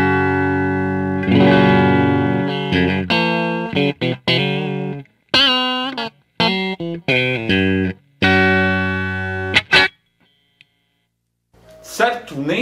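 A clean electric guitar tone runs through a Tom Tone Stargazer pedal: a series of sustained notes and quick melodic runs, loud and close, with short pauses and a brief silence before the playing resumes.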